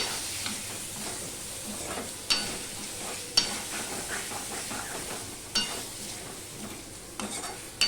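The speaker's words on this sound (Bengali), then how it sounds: "এক চামচ উঁচু উঁচু আদা বাটা দিয়ে সম্পূর্ণটা মিশিয়ে নিয়ে আমি আবারও ভাজতে থাকবো" Potol (pointed gourd) and potato pieces fry with turmeric and ginger paste in a pan, a steady soft sizzle broken by repeated scraping stirs and occasional sharp clinks of a spoon against the pan.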